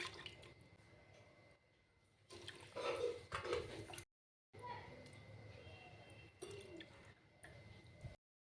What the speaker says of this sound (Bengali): এখন আমি মাছগুলো ভালো করে ধুয়ে নেব এইভাবে।